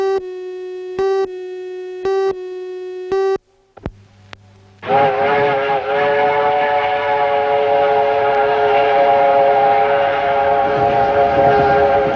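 A train on the Rio Grande Western Railway, passing through a small silver mining town, sounds three long steady whistle blasts, then after a pause rolls on with a loud, sustained chorus of whistle and running noise.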